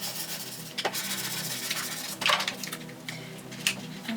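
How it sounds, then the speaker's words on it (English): Removable vinyl is burnished on the back of a transfer sheet, giving close, short rubbing and scraping strokes in a few separate bursts over a quiet background. "I'm going to burnish it at the back as well"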